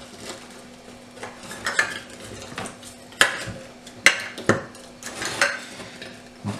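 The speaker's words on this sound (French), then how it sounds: "je viens écraser mes citrons avec le sel pour pouvoir faire justement ressortir le jus" Lemons crushed with salt in a bowl for lacto-fermented preserved lemons, heard as a series of sharp clinks and knocks of a utensil against the dish, irregular and close.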